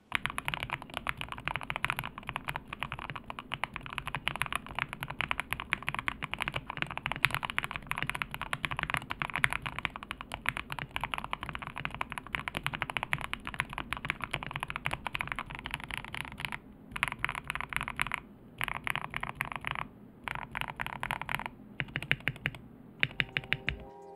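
Rapid, continuous typing on a budget custom keyboard kit fitted with ASA profile keycaps, dense close-up keystrokes clattering in a fast, even stream with a few brief pauses and no speech.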